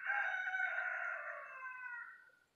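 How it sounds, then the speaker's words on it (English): A rooster crows a single long, drawn-out call, clear and moderately close, fading at the end with no voices around, at a pine campground in Navasota, Texas. "and yes, roosters crowing next door."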